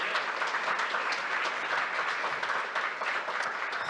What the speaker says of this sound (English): Round of applause for Jean Walsh.